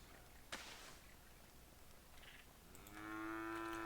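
A cow in the game Craftopia gives a low, drawn-out moo near the end, faint and close, after a sharp whip-like hit and soft background noise.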